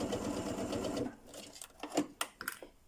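A sewing machine runs a steady buzzing stitch line on an invisible zipper for about a second. It then stops, followed by a few faint clicks and handling taps.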